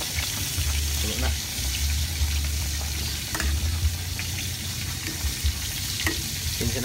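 Fish frying and sizzling in a pan, a steady loud crackle with occasional stirring clatter and a faint voice talking in the background.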